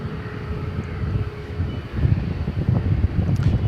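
A Boeing 747-8 jet touches down after a long flight, giving a distant low rumble mixed with gusty wind noise that swells slightly toward the end.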